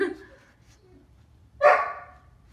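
A dog lets out a single sharp, nearby bark after a faint yelp and a short quiet pause.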